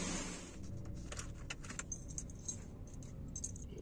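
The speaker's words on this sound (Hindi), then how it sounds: "ये होगी चाबी।" Keys jangling beside a 3-ton pickup truck in Dubai, a run of bright, close metallic clinks and rattles over a low idling vehicle hum.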